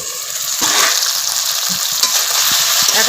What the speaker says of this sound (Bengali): এখন আমি আর কিছুক্ষণ এভাবে নাড়াচাড়া করে ভালো করে কষিয়ে নেব।